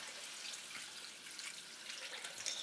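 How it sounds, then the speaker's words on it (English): About a liter of water is poured into a pot of pork and marinade, a quiet, continuous trickling splash with no voices over it. "pour in the rest of the marinade, as well as 1 liter of water."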